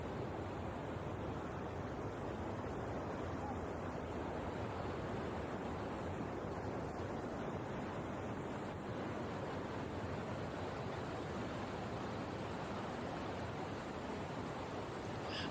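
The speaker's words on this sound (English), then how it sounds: "We reached the waterfalls already." Amiakhum waterfall at Thanchi in Bandarban roars as a constant, broad rush of falling water, loud and unbroken throughout with no voices.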